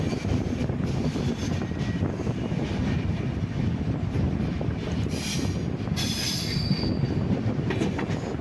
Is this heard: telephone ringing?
no